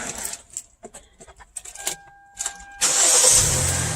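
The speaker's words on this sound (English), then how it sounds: "I'm just go in and start the car." Car engine cranked and fired with a Gooloo 800A jump starter: small clicks and clatter, then the engine catches and settles into a loud, steady idle close by for the final second.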